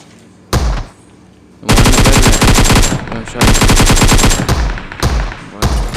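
Automatic gunfire in the mobile game PUBG Mobile, with a short burst followed by long, loud, rapid sustained volleys and brief pauses between them, very close and dominant.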